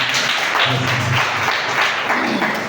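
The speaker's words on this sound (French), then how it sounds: "j'aimerais qu'on applaudisse vraiment le conférencier" A seated audience at a public-speaking training lecture applauds the speaker with a continuous, fairly close wash of clapping over a few seconds.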